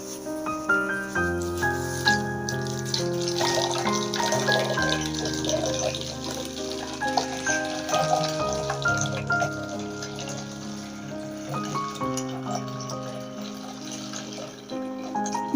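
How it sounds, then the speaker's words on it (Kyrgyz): Water is poured into a one-liter or 1.5-liter plastic bottle in a physics demonstration, with a pouring and gurgling sound mixed with layered sustained tones at a moderate level. "Бакалашкага сууну куябыз."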